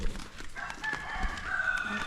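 A gamecock rooster crows over a noisy outdoor background, its strained call rising and stretching out, with other fowl faintly audible.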